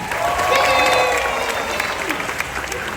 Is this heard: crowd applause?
yes